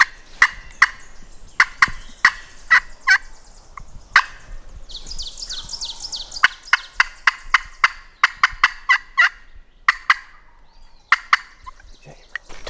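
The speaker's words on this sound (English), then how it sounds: "we got a turkey gobbling" Wild turkey gobbling outdoors on public land in the evening, several loud gobbles mixed with sharp, repeated yelps and clucks from turkey calls, the bursts spread in an irregular rhythm across the clip.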